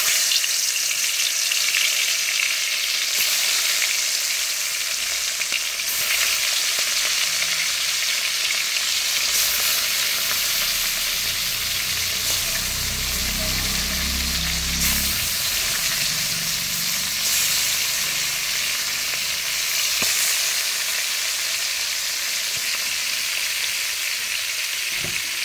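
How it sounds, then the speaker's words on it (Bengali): Koi fish frying in hot oil, a continuous dense sizzle and crackle that holds steady throughout, close and loud with occasional sharper spits and a brief lower bubbling swell midway. "কই মাছগুলো ভেজে নেব।"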